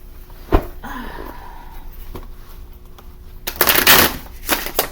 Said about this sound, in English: let me get my deck real quick. I'll just pick a few cards